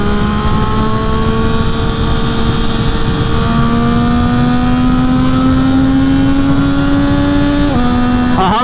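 Triumph Speed Triple superbike engine running loud and close, a steady roar with a slowly rising pitch as it revs, then a brief dip and a quick climb at the end like a shift, with nothing else heard.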